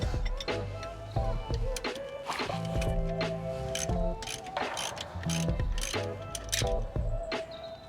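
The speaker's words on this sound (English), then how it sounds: "the ratchet on those two bits 21 and a 15" A ratchet loosens the brake caliper bolts on a 2021 Ford Transit Custom, giving close, loud runs of rapid metallic clicking with brief pauses between strokes.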